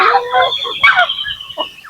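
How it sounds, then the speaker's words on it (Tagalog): Mixed flock of native chickens, ducks and geese raised together on a small farm, giving clucks and honking calls in overlapping bursts close by, with no talk. "Native na manok mga idol, saka pato, saka gansa mga idol."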